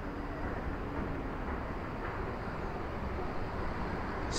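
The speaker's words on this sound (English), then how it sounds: "Right, here comes the tram" A low, steady rumble of a Blackpool tram rolls in, constant and broad with no voices, growing slightly louder at the very end.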